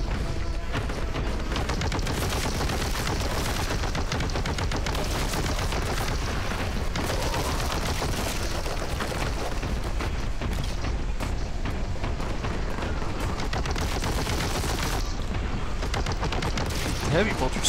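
Heavy bolter fire in the Boltgun video game, a dense, continuous roar of rapid shots and explosions that runs throughout, with a voice talking over it at times.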